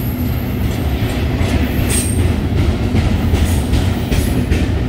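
A westbound BNSF intermodal freight train rolls past close by through Whitefish, Montana, with a loud continuous rumble, metallic wheel squeal and faint rhythmic clatter throughout.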